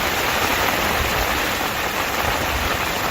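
Rain pouring outdoors beside a fishing lake during a sunny autumn shower, a loud, dense and unbroken wash of noise with no speech over it.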